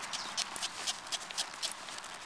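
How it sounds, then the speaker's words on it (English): A ridden horse walks forward during a schooling session, its hooves giving a steady, rhythmic clip-clop of repeated soft beats at close range, with no talking. "I want the horse to continually walking forward."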